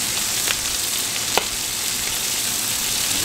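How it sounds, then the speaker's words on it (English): Onions fry in a pan at a street-food-style cooking session, a steady loud sizzle close up with a couple of faint clinks. "fry some of these onions. The pan is over here."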